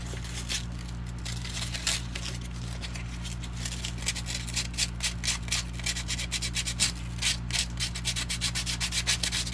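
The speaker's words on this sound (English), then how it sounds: "I am going to sand the back of this" Steady, continuous scratchy rubbing as the back of a jewelry bezel setting is sanded by hand, close and fairly quiet, with a low constant hum underneath and no talking.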